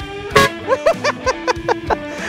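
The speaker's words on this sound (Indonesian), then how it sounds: "Gue modif mobil ini ada klakson yang kayak gini suaranya." A loud, brassy bus-style horn fitted to a modified Nissan Navara pickup sounds once long, then a rapid series of short melodic toots in a musical pattern, close and alone.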